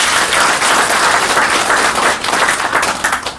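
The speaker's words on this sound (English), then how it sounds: "let's just clap for ourselves for our commitment" Sustained applause from an audience at a university nursing school alumni chapter launch in Nairobi, a dense, loud wash of clapping filling the whole stretch without talk.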